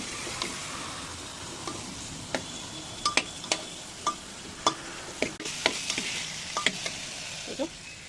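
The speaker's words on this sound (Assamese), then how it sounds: "এতিয়া বনাই আছোঁ দাইল এইটো মোৰ ষ্টাইলৰ দাইল" Dal lentils cook in a pan with a steady sizzle, punctuated by sharp ticking clicks and scrapes of stirring at irregular intervals, close and moderately loud.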